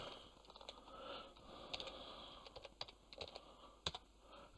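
Quiet, irregular clicks of keys pressed on a computer keyboard as a password is entered, light taps scattered over a faint background hiss with a couple of sharper strikes.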